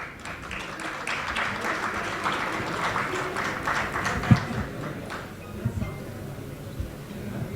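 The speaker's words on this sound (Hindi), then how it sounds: "और आवाज आप सभी की तालियों को भी।" Audience applause at the inauguration ceremony of the Rang Rajasthan Festival 2023, a Rajasthani theatre and folk festival, a steady wash of clapping from a crowd that holds for about five seconds, then thins out into a few scattered claps.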